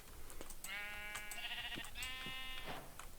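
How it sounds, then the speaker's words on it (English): Sheep bleating in Minecraft's Living off the Land mod pack, a few drawn-out wavering bleats close by with short clicky game sounds around them, no talking. "knowing that I need some wool, there's a sheep right over here"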